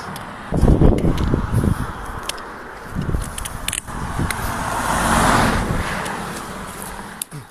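A car passes along a road in the Scottish Highlands, its broadband rush rising and fading nearby amid outdoor wind and some handling noise.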